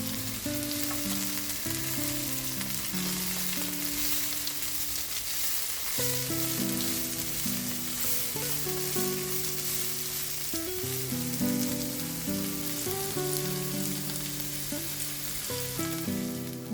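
Vegetables sauté in a pan with a steady, loud sizzle and crackle that runs unbroken throughout, with no voices over it.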